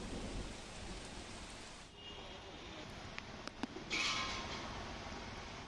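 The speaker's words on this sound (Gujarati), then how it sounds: "ધોધમાર વરસાદ છે" Heavy rain pours steadily over Dwarka, a dense hiss from start to finish with a brief dip and a few sharp knocks, then a brighter burst of splashing near the end.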